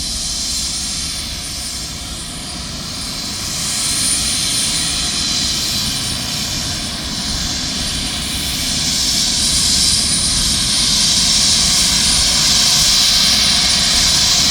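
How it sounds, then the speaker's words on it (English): A loud, steady aircraft engine roar with a whining hum, swelling slightly over time as a Life Flight medical helicopter powers up for takeoff at a head-on collision scene, with no talk. "So we will show the helicopter taking off."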